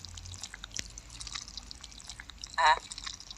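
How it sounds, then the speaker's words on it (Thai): A short wet, squelchy slime drip in the video game Specimen Zero sounds once near the end, over a quiet low background hum. "นี่เสียงเมือกเมือกอะ"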